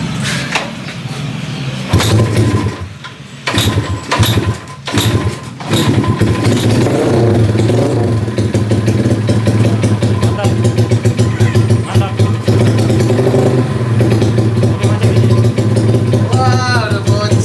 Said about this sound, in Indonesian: Udah motor itu sampai dah bunyi.